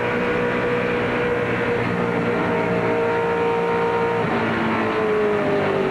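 A NASCAR stock car driven by Dale Jr. roars continuously from an onboard position during a Fox-broadcast race, a loud, dense engine drone with shifting harmonic whines and no break.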